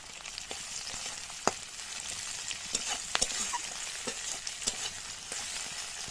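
Chopped tomato goes into a pan of fried onions, setting off a steady, moderate sizzle broken by sharp scraping clicks of a spoon stirring against the pan.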